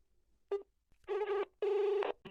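A phone call placed from a handset, heard as a short tone followed by two long, loud ringback bursts with harmonic tones, alone with no talk.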